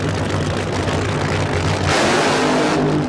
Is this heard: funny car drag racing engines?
yes